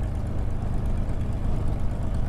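A Spitfire Mk IXc piston engine in Microsoft Flight Simulator runs with a loud, steady, low droning rumble just after start-up, continuous and with no voices.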